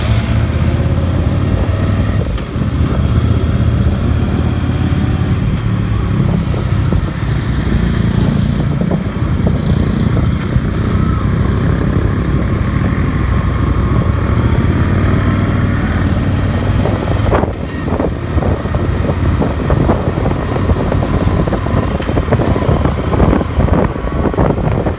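A Yamaha XV 750 motorcycle carrying two riders, about 200 kilos aboard, accelerating steadily, its engine droning loud and continuous under heavy wind rush.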